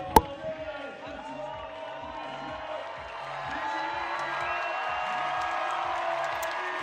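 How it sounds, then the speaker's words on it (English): Spectators at a lead climbing semi-final in Chamonix clap along in a steady rhythmic beat, the applause swelling into a fuller crowd roar, with a commentator's voice faintly over it. "We can hear the crowd is amazed. Everyone is clapping"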